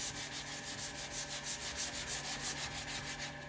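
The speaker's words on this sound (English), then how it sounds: "they're both going to end up being sanded sort of together" A sanding block is stroked back and forth over a 1968 Pontiac Firebird body panel in a quick, even rhythm of about five rasping passes a second. The scraping is steady and close, with no one talking.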